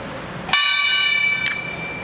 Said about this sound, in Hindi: मंदिर की घंटियाँ भी बज रही हैं।